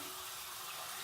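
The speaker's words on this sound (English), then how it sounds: "Nice ice cold water coming out of this tap." Ice cold water runs from a tap in a steady, loud, continuous rush, brief and unbroken, with no voices.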